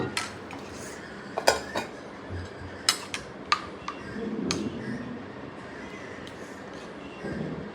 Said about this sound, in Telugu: సో మిల్క్ వేసుకున్నాక ప్లమ్ని మళ్ళీ మంచిగా మిక్స్ చేయాలి